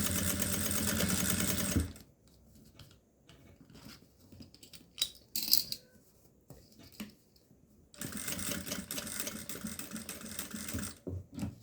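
A sewing machine stitches a fabric toiletry bag in two loud bursts, running steadily for about two seconds at the start and again for the last few seconds, with quiet handling and small mechanical clicks in between.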